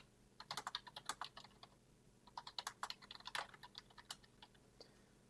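Computer keyboard typing as a password is entered: two quick bursts of crisp key clicks with a short pause between, close and fairly quiet.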